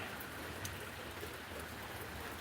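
Rain falls during a night storm, a faint steady hiss of drops with no voices over it.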